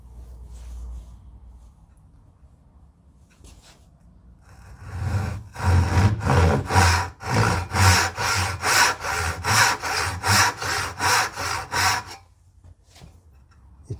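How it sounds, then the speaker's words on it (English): A Distin Western hand saw cuts dovetails in wood for a large jewelry box, making about a dozen rhythmic rasping push-pull strokes, close and clear, after some quiet setup handling. "I'll be using the Distin Western saw and showing you how I cut these."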